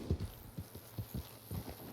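Horse hooves clip-clop in Red Dead Redemption 2 with a steady trotting rhythm of soft thuds, fairly faint and close, with no speech over them.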